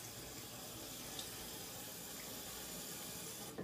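Water running steadily from a sink tap while a face is wetted, a continuous faint splashing hiss close by with no voices.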